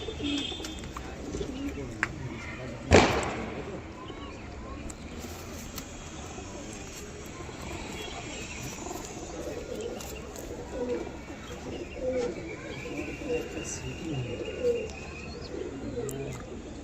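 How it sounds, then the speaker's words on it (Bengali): A female pigeon kept for sale coos softly amid steady background noise, with a sharp click near the start and a voice speaking over parts of it. "পায়রাটা খুব সুন্দর পায়রা, ফিমেল পায়রা।"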